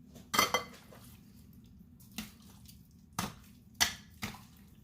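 Beef tips being mixed with marinade in a bowl, heard as a few separate sharp clinks and wet scrapes spaced apart over quiet background; no talking.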